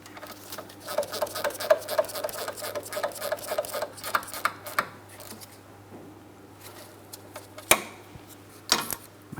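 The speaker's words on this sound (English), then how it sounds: "My torque wrench." Torque wrench tightening the lower control arm bolts on a 2003-2007 Cadillac CTS to 18 foot-pounds, heard as a close, rapid ratcheting tick-tick run that stops and starts, then a few sharp louder clicks near the end.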